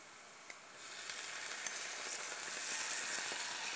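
Spices and ginger sizzle in a pan while being stirred, a soft hiss that swells in after a faint click and holds steady, with light scraping ticks from the stirring, fairly quiet and without voices.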